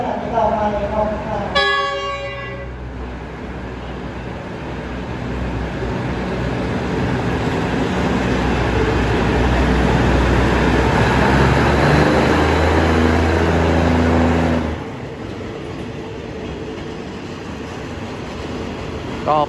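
Train 429 departs Nakhon Ratchasima railway station, opening with a loud horn toot, then a long rumbling roll of engine and wagons building and holding before cutting off near the end.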